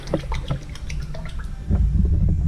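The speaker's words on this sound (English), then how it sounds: "So we'll rinse it off." Water splashes and drips over an etched steel knife blade being rinsed, with scattered close drips and trickles giving way to a fuller, steadier running flow in the last second.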